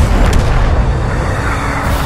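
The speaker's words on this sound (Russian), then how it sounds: "Чего только стоит эффект от выстрела" A heavy tank gun shot from World of Tanks, a deep booming blast with a rumbling, sustained low-end tail filling the whole moment, loud and close with no voices.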